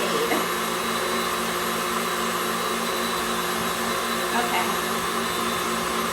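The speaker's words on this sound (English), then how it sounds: "Woo, my table's moving. The power of the KitchenAid." A KitchenAid stand mixer running at high speed whips cream and sugar, giving a loud, constant motor whir with a brief spoken word.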